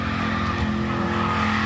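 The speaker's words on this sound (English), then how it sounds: "That's when the car rapidly accelerates." A car accelerates hard on a dark street, its engine a steady loud roar with a faint tire squeal running through it, heard alone without voices.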